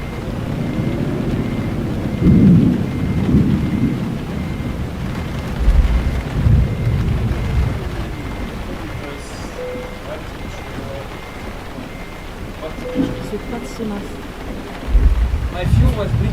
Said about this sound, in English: It's raining like a maniac.